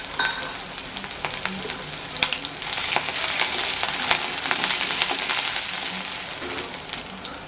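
Green chilli and grated ginger frying in a pan for a paneer dish give a steady, close hiss of sizzling oil with scattered sharp crackles and pops, growing fuller midway and running without any speech.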